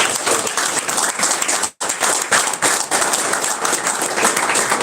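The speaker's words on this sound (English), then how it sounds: "just give Joel a round of applause." An audience applauds at a live political party event, with dense, sustained clapping filling the room for several seconds apart from one brief break.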